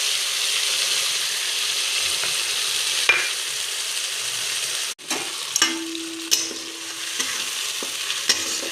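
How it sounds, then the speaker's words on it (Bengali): Bay leaf and cumin seeds fry in hot oil with a steady bright sizzle throughout, broken by a few stirring scrapes and clinks of a utensil against the pan. "গরম হয়ে গিয়েছে, তাই এখন এতে তেজপাতা দিয়ে দেব আর কটা জিরা দিয়ে একটু ভেজে নেব হালকা।"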